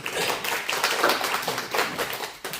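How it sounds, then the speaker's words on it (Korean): An audience at a year-end gathering held with a Buddhist monk applauds loudly and steadily, dense continuous clapping from many hands close by. "크게 한번 박수 한번."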